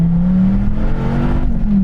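A Dodge Viper's engine roars loud and close as the car accelerates, a strong steady drone climbing gently in pitch for a couple of seconds.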